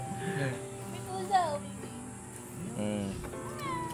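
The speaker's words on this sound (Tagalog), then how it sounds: "May pusa o" A cat meows several times in quick succession, close and clear, with rising and falling cries amid a busy indoor background.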